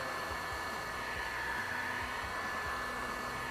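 Heat gun blowing hot air onto a small patch of a car floor mat to soften its adhesive, a steady close whooshing roar that holds constant throughout with no talk.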